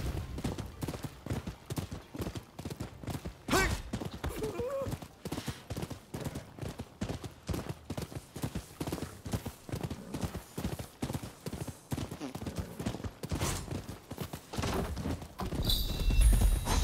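A horse gallops in the samurai video game Rise of the Ronin, with fast, steady hoofbeats pounding close and continuous for the whole stretch, broken briefly by a whinny and a few other game effects.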